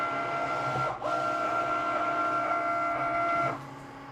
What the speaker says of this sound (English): And now the little Cricut button is flashing and we're just gonna hit that and it's gonna start cutting.